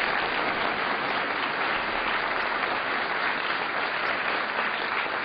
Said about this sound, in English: give teachers a big round of applause